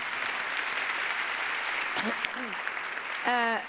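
An audience at a conference claps for Tina Brown in a steady, moderately distant wash of applause, with a voice speaking over it near the end.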